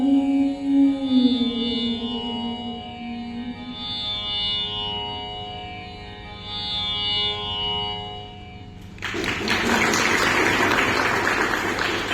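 An audience bursts into applause after a live musical performance. Sustained music tones hold for several seconds, then a loud, broad wash of clapping takes over near the end and continues to the close.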